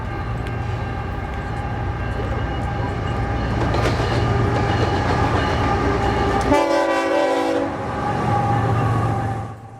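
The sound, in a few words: BNSF freight train arriving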